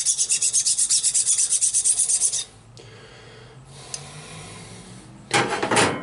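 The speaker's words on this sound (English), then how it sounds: "you want to keep filing that edge because those burrs turn into cracks" Hand file rasping burrs off the edge of a coin ring, with about a dozen quick, even strokes in a loud, close rhythm, then a quieter stretch and one more short burst of filing.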